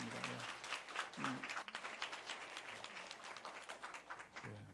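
A congregation at a church service claps to encourage the children, with dense, sustained applause and a voice speaking over it at moderate distance.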